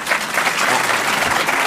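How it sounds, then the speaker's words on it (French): A festival audience at the Alpe d'Huez festival applauds loudly and steadily, with dense sustained clapping from a large crowd and no clear voices. "Vous voyez comme la station est applaudie."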